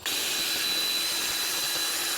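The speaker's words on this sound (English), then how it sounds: "we want to take a drill with a cleaning wheel and clean off the surface the best we can" A drill fitted with a cleaning wheel scrubs the front hub surface of a 2002-2007 Jeep Liberty during a brake pad and rotor job, giving a steady, loud, continuous whirring grind that runs unbroken throughout with no talk.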